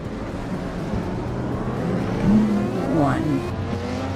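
A classic 1983 Group C2 MK8 race car in a racing game, its engine droning steadily with rising revs and a tonal whine sweeping upward as it accelerates.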